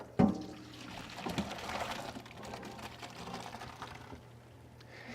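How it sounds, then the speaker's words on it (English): Boiling water and noodles are poured from a pot into a colander, a sudden splash followed by a steady rushing, hissing pour that gradually tapers off into faint trickles. "we want to make sure that we're careful in pouring this out, because the water has been boiling"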